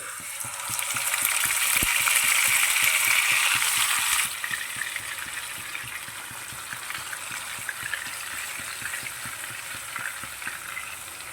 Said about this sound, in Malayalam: എണ്ണ ചൂടാ കഴിച്ചപ്പോൾ നമ്മൾ മാരിനേറ്റ് ചെയ്ത് വെച്ചിരിക്കുന്ന ഫിഷ് ഇട്ട് കൊടുക്കാവേ